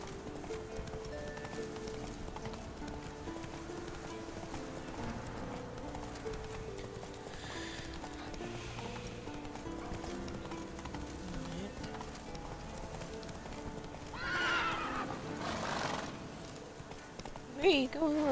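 Roach, the horse in The Witcher 3, clops along with rhythmic hooves, and near the end comes a brief whinny and snort, while someone talks over much of the game sound.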